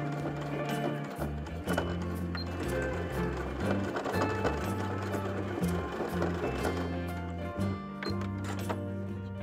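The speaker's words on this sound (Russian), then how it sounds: "Прострачиваем строчку на сантиметр от края." Sewing machine stitching the corner seam of a small zippered cosmetic pouch, a steady mechanical whirring and rapid needle clatter with short stops and restarts, close and moderately loud.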